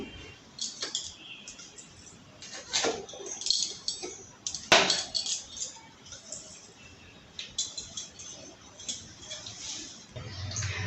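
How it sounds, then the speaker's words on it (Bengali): Coriander, fennel and cumin seeds are ground by hand in close, quiet, irregular strokes of scraping and clicking, with short pauses between bursts. "আমি এবার এখানে মশলাটা বেটে নেব। মশলাতে আছে ধনে, মৌরি আর জিরে।"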